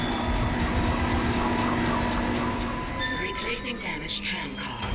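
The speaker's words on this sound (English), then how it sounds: "Replacing damaged tram car. Please stand by." A Dead Space tram car hums and rumbles along its track in a steady mechanical drone with a faint clatter, while a voice talks over it.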